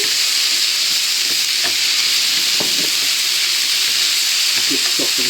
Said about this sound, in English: That's the onions and the bacon cooked.